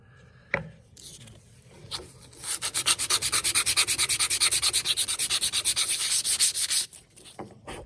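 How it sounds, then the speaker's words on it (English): A wooden phone speaker's bottom is sanded smooth by hand, a fast, steady run of close rasping strokes lasting several seconds, with a few knocks before and after and no one speaking. "So I'm gonna take care of this whole bottom first and sand that smooth."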